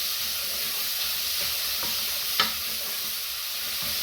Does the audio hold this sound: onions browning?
yes